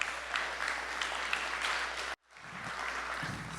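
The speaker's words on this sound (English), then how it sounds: "can we give Team Super Summit a round of applause?" An audience at a tech conference summit gives a full round of applause, dense and sustained, cutting off abruptly partway through and then resuming.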